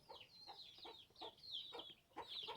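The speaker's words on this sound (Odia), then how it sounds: "ପୁଣି ଆସିଲେଣି ଦେଖ କୁକୁଡ଼ା।" Domestic chickens cluck around a house at dusk as they look for a place to roost, a rapid series of soft, repeated clucks at moderate distance with no talking.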